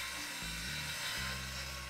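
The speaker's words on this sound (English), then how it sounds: "Now, you can screw the pieces together at the ends." Power drill driving screws into 2x4 wood to build an attic storage box: a steady motor whine that shifts pitch as the screw bites and the load changes, close and continuous with no talk.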